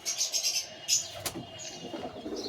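A Giddhe line pigeon calls at close range in soft, brief coos, with higher chirping bursts and faint background noise around it.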